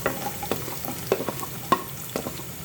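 Diced onion and sliced spring onion whites sizzle in a pan for paneer chilli, a soft steady fry punctuated by regular spatula scrapes and taps, close by with no talking.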